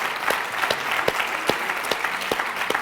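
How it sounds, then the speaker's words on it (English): Audience applause for a panel at a faith summit, a steady bed of crowd clapping with a few sharp, louder claps close by punctuating it at a regular beat. "let's give a round of applause to this amazing panel"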